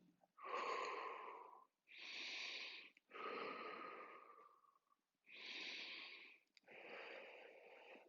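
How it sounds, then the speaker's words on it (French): Slow, deep breaths are held and released during gentle stretching exercise, five long airy inhales and exhales spaced by short pauses, close and fairly soft, with no talking. "On tient 3 respirations."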